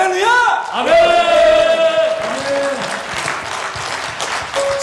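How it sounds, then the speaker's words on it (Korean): A church congregation at a Wednesday prayer meeting bursts into loud applause and cheering, with shouted voices and a sung or sustained tone rising over the clapping before it tapers slightly and continues. "내가 낼 수 있는 가장 큰 박수 함성으로 주님 찬양의 박수 올리겠습니다"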